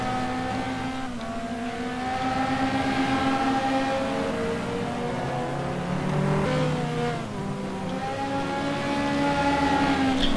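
Ferrari GT2 race cars battle at Oschersleben in a racing video game, engines droning and revving steadily with shifting pitch, loud and continuous throughout.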